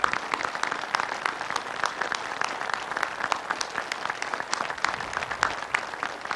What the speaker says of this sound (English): let's give Secretary Mavis another round of applause